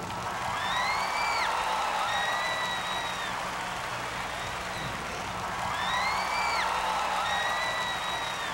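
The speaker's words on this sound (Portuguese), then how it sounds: "todo mundo levanta a mão e vão aplaudir bem forte assim" A large live concert crowd at an arena claps loudly and steadily, a dense continuous wash of applause with whistles and cheers rising over it, swelling again toward the end.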